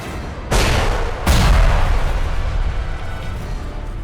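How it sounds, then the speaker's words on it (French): A huge explosion in a film scene: two heavy booms in quick succession, the second deeper and louder, each followed by a long roaring rumble that stays loud and dense to the end, with no talking. "Et cette énorme explosion."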